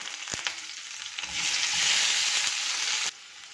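Kanthari chillies and garlic hit hot oil with mustard seeds in a pan, a bright sizzle swelling loudly for a couple of seconds after a few small splatters, then dropping back to a softer fry.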